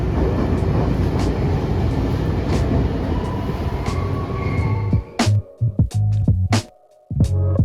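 A KRL commuter electric train pulling out of Tangerang station in Indonesia, with a steady low rumble and rolling noise that fills the first five seconds, then breaks into sharp clunks and gaps near the end.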